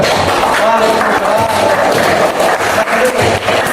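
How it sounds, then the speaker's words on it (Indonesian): Group three gets applause and cheering from a classroom audience, a loud, dense, steady roar of claps and voices that dips slightly in places. "Tepuk tangan buat kelompok tiga."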